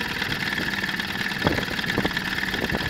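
A Sears outboard motor running on a remote fuel tank idles steadily close by, a low, even engine chug with no voices over it.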